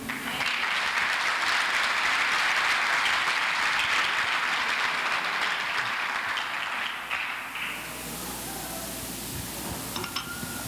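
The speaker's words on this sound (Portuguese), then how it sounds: "Você pode aplaudir o nome dele?" An audience at a 2018 church gathering claps steadily and loudly for about seven seconds, then the applause thins out and fades into a quieter room.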